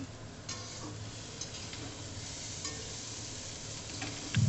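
Mutton curry being sautéed and stirred in a pan: a steady low sizzle with soft scraping stir strokes throughout, close and moderate in level, with a slightly louder clatter at the very end.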